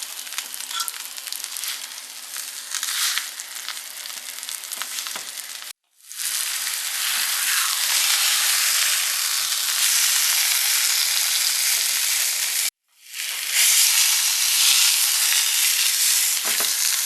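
Pork frying in a pan, a loud, steady hiss of sizzling fat close by, broken by two short silent gaps before the sizzle resumes at full strength; no one speaks.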